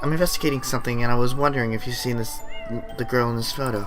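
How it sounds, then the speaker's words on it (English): A cat in the video game Tokyo Dark meows over a person's steady talking, and the meow is partly masked by the dialogue. "That's a cat."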